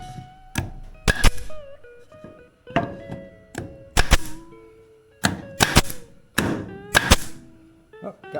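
An air-powered fastener gun fires a series of sharp, loud snaps and thunks in irregular bursts, with short gaps between shots, while installing wind lace around the doors of a 1932 Studebaker.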